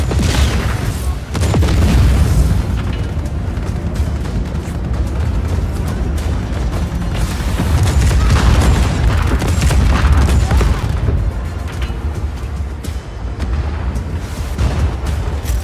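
Heavy ship-mounted cannon firing in the video game Just Cause 4, a dense run of loud booming blasts and rumbling explosions that fill the whole stretch with little pause.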